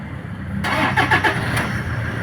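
Toyota Hilux engine with a worn timing belt cranking and catching, a broadband burst of starter and ignition roughly halfway through, then a steady running rumble close by.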